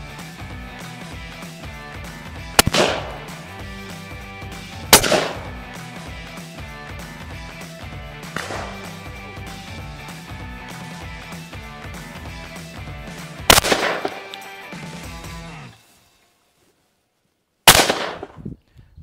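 Shotgun blasts from a Stephen Grant side lever at a clay shoot, four or five sharp loud reports spaced a few seconds apart over steady background noise.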